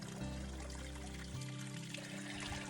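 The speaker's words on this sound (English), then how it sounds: "I don't know if you can hear the water. You can probably see the creek." A creek on a Pacific Crest Trail hike gives a steady, faint wash of flowing water that runs through the whole stretch under a low background rumble.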